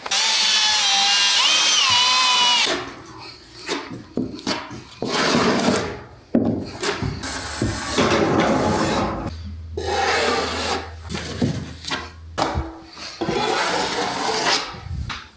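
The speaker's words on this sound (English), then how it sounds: "I am going to use the bucket method again to mix up the mud" A mixing paddle churns drywall mud in a bucket in bursts of loud grinding and scraping, stopping and starting repeatedly, with short quiet pauses between runs.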